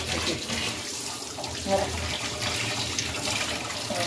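Running water splashes and trickles continuously while a mackerel is rinsed under it, with a few brief knocks and faint voices in the background.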